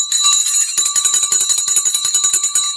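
A stock market opening bell rings continuously with rapid, rhythmic strikes, steady and fairly loud for a few seconds, with no one speaking.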